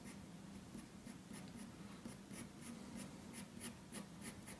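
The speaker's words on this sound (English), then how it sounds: "And for this I'm using a darker 12B matte graphite pencil." A darker 12B matte graphite pencil scratches across paper while tall grass is sketched into a landscape drawing, producing steady, close rasping strokes with quick repeated flicks and no voices.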